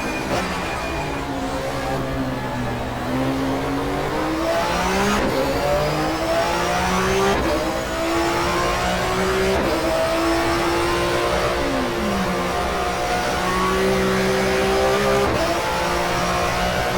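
A 1994 German Touring Car Cup race car engine at Avus in the racing game GTR2 howls loudly and continuously, rising through the gears with sharp shift breaks and repeated revving climbs and no voices.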